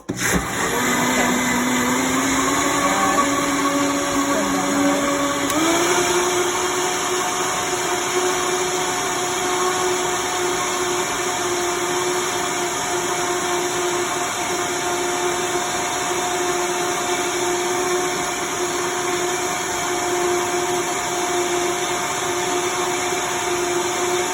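A blender runs continuously while making hemp milk, its motor whirring loudly and close with a steady pitch that shifts up slightly after a few seconds, then holds for the remainder.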